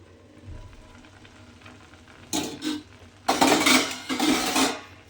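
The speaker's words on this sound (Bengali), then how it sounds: "এইবারে আমি আপনাদের ঢাকাটা খুলে দেখাচ্ছি দেখুন" Lid lifted off a pot of white polao rice cooking on the stove, a clatter of metal followed by louder bursts of hissing and stirring scrapes, close and alone.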